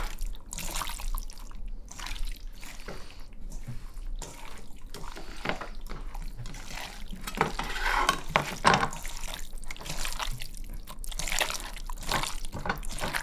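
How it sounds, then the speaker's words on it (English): Raw chicken for Persian joojeh kabob being kneaded by hand with onion in a wet marinade, giving soft, close squelching and sloshing sounds that keep going throughout, with no talking. "Also, we're gonna massage it with the onion."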